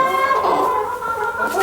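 Chickens in a laying flock cluck and murmur close by in a dense, continuous stream of overlapping calls.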